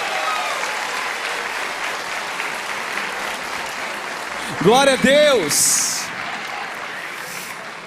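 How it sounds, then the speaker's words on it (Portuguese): A church congregation at a morning worship service applauds loudly and continuously, and a voice calls out over the clapping midway through. "Mais um forte aplauso para esse time lindo."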